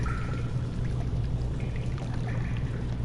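Water runs and pours steadily in the dark, quiet setting of the video game Amnesia: The Dark Descent, a continuous close trickle over a low, even hum.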